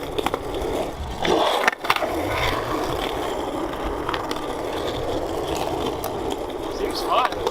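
A longboard on 3D printed wheels rolls with a loud, steady, gritty roar and scraping texture, with a brief bump partway through. Voices can be heard over the rolling.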